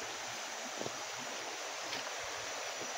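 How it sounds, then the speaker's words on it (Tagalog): A mountain stream in a wide mountainous area runs steadily as a faint, constant hiss and rush of water, with a few soft knocks nearby and no voices. "Diyan muna ako dadaan sa may sapa."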